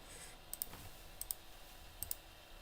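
Mouse clicks from a button press in accounting software, with three pairs of short, faint, crisp clicks spaced about two-thirds of a second apart over a quiet room background.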